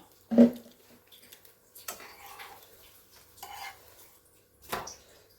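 A lid is set onto a pan while cooking elanji, opening with one sharp close clink, then softer metallic taps and scrapes spaced out over a few seconds.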